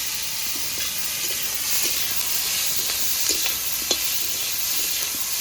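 Onion and chopped chillies frying in a pan for a jute-leaf and egg dish, giving a steady, even sizzle and hiss with a few soft stirring clicks, close and moderately loud, with no talking.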